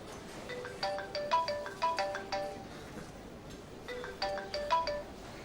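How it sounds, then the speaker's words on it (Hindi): A phone ringtone plays a short melodic electronic pattern twice with a pause between, moderately loud and close, no talking over it. "तुम्हारा फोन बज रहा है।"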